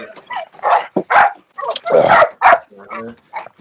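Several dogs bark loudly and close in an outdoor face-off, a run of sharp barks and yips mixed with excited voices and shouting.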